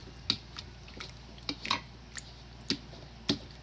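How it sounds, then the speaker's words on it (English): Cooked pinto beans, dumped in with their juice, are mashed with a potato masher, giving a handful of soft wet squishing thuds at irregular intervals, close and fairly quiet. "Then I'm going to take a potato masher. I'm going to mash up them beans."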